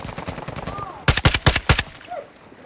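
Video game gunfire cracks out in two bursts, a lighter string of rapid shots followed by five loud, closely spaced heavy reports, with faint background sounds between.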